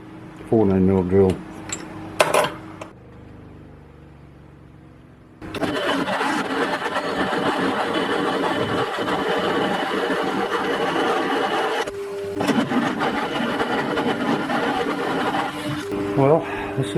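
Small DC motor driving a drill press as a 14mm bit bores a hole, a steady loud whir and grinding from about five seconds on with a brief dip near twelve seconds, after some clanking of tools at the start.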